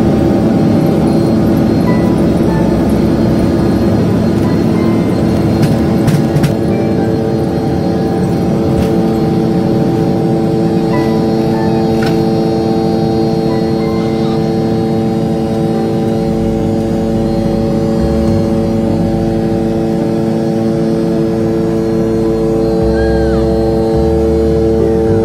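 Steady, loud airplane cabin drone during flight, a continuous engine hum and broadband rush with faint clicks, no speech.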